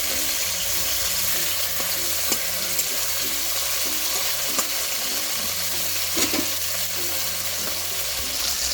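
Fish pieces fry in hot oil for a bitter gourd and potato chorchori, a continuous close crackling sizzle with occasional spatters and faint utensil taps, no talking.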